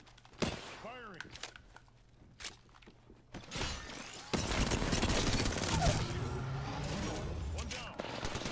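Rapid gunfire from a squad-based battle royale video game, bursts of shots and impacts building into dense, continuous firing with footsteps and movement, loud and close, with players talking over it.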